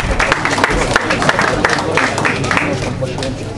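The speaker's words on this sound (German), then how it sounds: "Applaus bitte" Crowd applause for a young fighter at a Fight Center Winden combat sports event, a steady dense wash of clapping and cheering over a low hum, sustained without a break.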